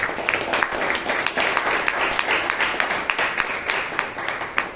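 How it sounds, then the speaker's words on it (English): A Toastmasters meeting audience in Bangalore applauds the speaker and evaluator, a lively, continuous patter of many hands clapping with sharp individual claps standing out, steady from start to finish. "Give them a big round of applause."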